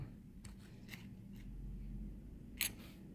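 A tab on a windshield part for a 1967 custom Camaro is cut off in a few faint, sharp snips spread across a quiet, close room, with one louder cut near the end.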